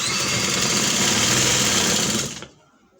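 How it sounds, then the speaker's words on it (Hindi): A sewing machine stitches lace onto a sleeve with a loud, steady whir up close, then stops abruptly near the end. "हम लगाएंगे इसके ऊपर सिलाई इस तरह"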